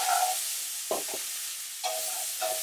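Onions sizzle steadily in a hot pan for beef bourguignon, a constant bright frying hiss broken by a few scraping stirs and bumps of a utensil, close and fairly quiet.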